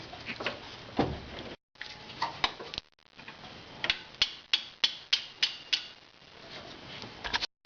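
Wrench clicking as it tightens the adjusting nut on a car alternator belt: a run of sharp metallic ticks, bunched and then evenly spaced, close by with short pauses.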